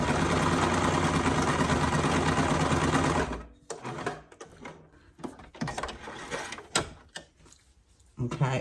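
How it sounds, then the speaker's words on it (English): A sewing machine stitches the sleeves of a primitive doll, running loud and steady for about three seconds before stopping, followed by quiet handling clicks and soft movement sounds. "And we're just sewing the sleeves."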